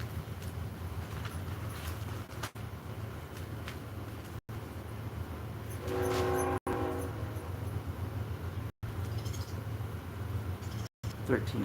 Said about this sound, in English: Hear the train again?